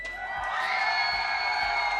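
Esports arena audience in Los Angeles at a Seoul Dynasty versus Gladiators match cheering and whooping, a sustained mass of crowd noise rising and holding loud through the moment with no single voice standing out.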